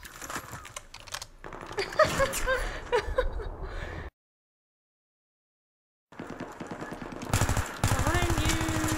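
Burst-fire weapon shooting in Battlefield 3, rapid clusters of sharp cracks in quick bursts, broken by a stretch of silence before more rattling fire resumes, with a voice talking amid the shots.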